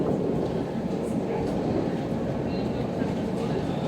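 A London Overground Lioness Line train runs toward Watford Junction near Queen's Park, a steady low rumble of wheels and carriage noise carrying through the whole stretch while an onboard announcement voice speaks over it.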